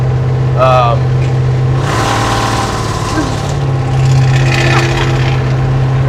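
A hot rod squarebody truck engine rumbles steadily up close, swelling in a couple of revs, with people talking over the running motor.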